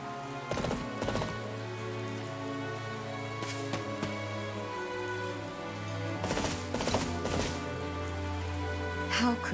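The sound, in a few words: rain falling, from the video game Fire Emblem: Three Houses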